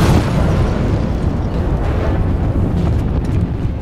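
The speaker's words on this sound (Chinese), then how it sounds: "随即发生爆炸" An explosion erupts in a Korean disaster film set in an apartment block after an earthquake, a loud sustained broadband roar with a rumbling low end that fills the whole moment without letup.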